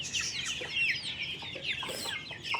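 Chickens raised at home cluck and chatter continuously at close range, with several overlapping bird calls and no voices.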